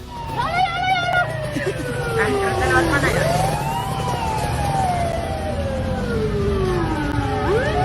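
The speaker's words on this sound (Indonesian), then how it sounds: "detik-detik mobil pemadam kebakaran tertabrak kereta api barang yang melintas" A fire truck's wailing siren sweeps up and down over traffic rumble, loud and nearby, with excited voices talking over it, as a passing freight train hits the truck.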